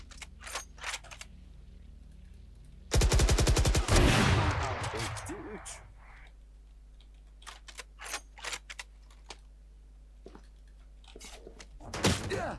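Bursts of rapid gunfire in a tense competitive shooter match ring out loud and close, a sustained volley around three to five seconds followed by scattered shots and clicks, with a final burst at the end.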